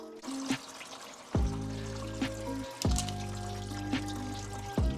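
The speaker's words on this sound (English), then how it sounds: "coolant draining" Coolant pours and trickles out of a car engine bay during a Toyota swap into a Ram 50, as a steady close stream of draining liquid broken by several loud knocks and clunks.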